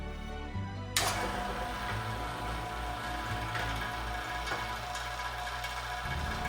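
A Vevor vacuum pump, used for stabilizing hardwood with Cactus Juice resin, switches on after a moment of low hum, then runs as a loud, steady mechanical drone with a high whine and a rattling motor texture.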